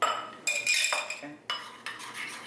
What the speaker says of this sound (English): Mix them in together.